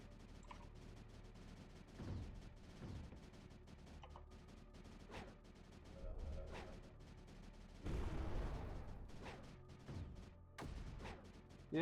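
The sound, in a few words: mortars firing at creeper in the video game Creeper World 4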